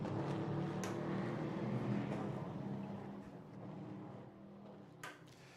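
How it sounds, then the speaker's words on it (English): A Ginetta GT race car in the Am class accelerates toward the S-bends at Snetterton during a championship race, its engine a steady buzzing drone with wind rush that fades slightly as it moves away. "As that car accelerates towards the S's"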